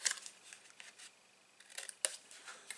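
Scissors snip through box material, a few close, quiet crisp cuts in short bursts with a sharp click partway through.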